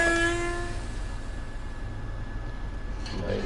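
AWS warning horn in a Train Sim World train cab, a loud steady tone that cuts off after half a second, leaving a low idling engine rumble and a brief clunk near the end.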